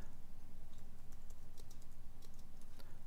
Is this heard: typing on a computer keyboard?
yes